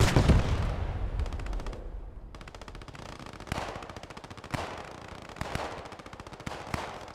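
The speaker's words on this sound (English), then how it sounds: "the P4 just slowly creeps forward, blasts shots through the tree lines along with its machine guns" A Panzer IV tank's machine guns rattle in long, rapid bursts in a Post Scriptum battle, broken by a few heavier, louder shots over a rumbling start, with no voices.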